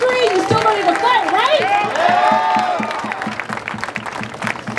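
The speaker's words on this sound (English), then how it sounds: "Give yourselves a round of applause for that." A rally crowd claps and cheers together, with dense applause running throughout and voices rising over it, while a loudspeaker voice talks across the noise.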